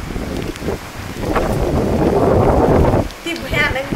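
Heavy rain pours down with gusting wind, forming a loud, dense roar that swells and holds before easing near the end.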